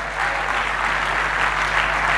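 A church congregation at a Christmas service claps steadily and loudly, a dense continuous patter with no speech over it, under a low steady hum.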